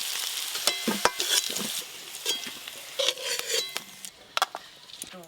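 Unripe jackfruit pieces sizzle as they fry in a hot pan, with a spatula stirring and occasional metallic clinks and scrapes against the pan.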